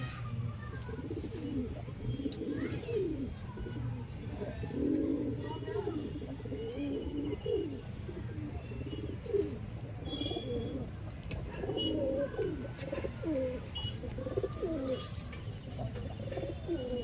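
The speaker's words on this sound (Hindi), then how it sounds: "देखो भैया कबूतर ऊपर कर रहे हैं" Pigeons coo repeatedly nearby, soft throaty rolling calls overlapping one another above a low steady background hum.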